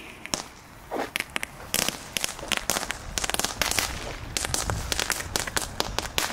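An Aldi power fountain firework throws out dense, continuous crackling with rapid sharp pops and snaps, loud and busy throughout, heard outdoors without talking.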